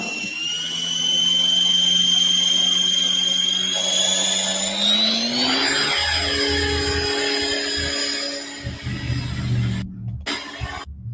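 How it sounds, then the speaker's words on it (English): A T-Rex 500X RC helicopter flying in winter, a loud whining motor and rotor drone that rises in pitch midway, then fades into rougher, choppier noise near the end, with no talk. "So my second flight for YouTube with my big heli, the T-Rex 500X."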